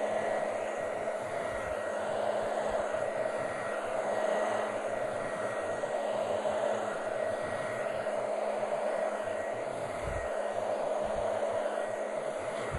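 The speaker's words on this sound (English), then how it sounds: "the nozzle of the blow dryer" Blow dryer drying hair during a haircut, a steady, even whooshing drone that runs without a break from start to finish, close and moderately loud.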